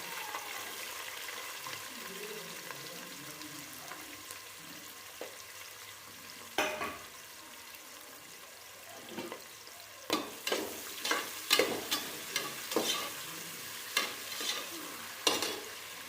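Green chillies and onion frying in a pan for veg pulao: a quiet low sizzle at first, then a run of sharp spoon-scrape and stirring knocks repeating every second or so in the latter half.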